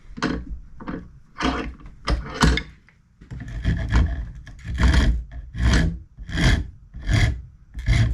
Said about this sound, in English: And I'll get the sanding.